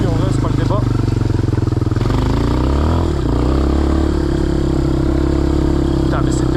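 Quad bike engine running loud and close while riding through a vineyard, a steady buzzing drone that surges and dips with throttle, with a rider's voice talking over it.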